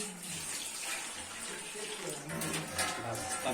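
Water poured from a tap-like stream into a pan of yogurt curry, a continuous close splashing gush that runs steadily throughout with slight swells.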